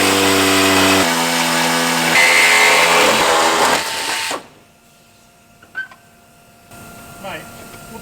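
Power tool cutting through the wing of a Maserati while a Liberty Walk kit is fitted, grinding loudly with harmonic whine for about four seconds, then stopping and leaving quiet clatter.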